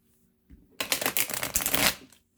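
A tarot deck, Tarot of Oppositions, is shuffled by hand in a single close riffling burst of about a second and a half, papery flutter starting and stopping abruptly in a quiet room.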